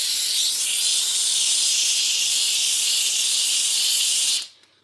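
A Beldray Titanium BEL07011TTR handheld steam cleaner hisses steam in one loud, continuous, close burst that cuts off abruptly at the end.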